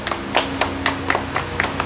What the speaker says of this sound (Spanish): Vaya, aplauso ahí al amigo.